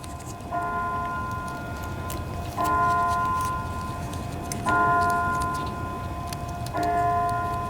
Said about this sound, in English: I live in a town where they ring the bell at noon.